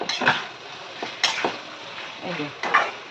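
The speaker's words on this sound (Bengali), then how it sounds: "আর কষবো এই যে কষাচ্ছি আর একটুখানি কষাবো" Green jackfruit being stir-fried and scraped around a pan with a spatula, giving several distinct scraping strokes over a low sizzle, fairly close and moderately loud, with no talking.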